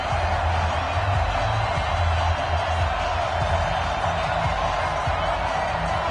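A stadium crowd roars steadily before a Carolina Panthers versus Oakland Raiders game in an EA Sports NFL title, a broad continuous wash of cheering, loud and even throughout.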